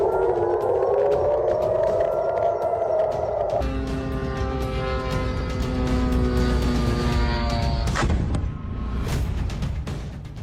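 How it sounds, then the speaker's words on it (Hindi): An air raid siren wails, rising and falling, at a US air base in Jordan, then gives way to a dense, droning mechanical roar with layered tones, loud and continuous throughout. "जॉर्डन में सायरन अलर्ट पर यूएस एयरबेस"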